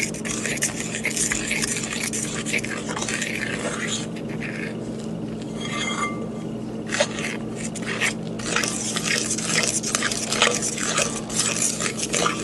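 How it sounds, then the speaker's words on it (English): Flour being stirred into a sourdough starter in a bowl, with soft repeated scraping and mixing strokes, close and moderately loud, the texture thinning briefly partway through. "And this time we add 1 cup of flour and stir that."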